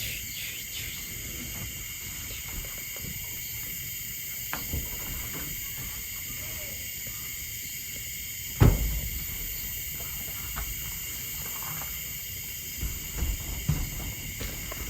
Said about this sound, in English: Listen to many crickets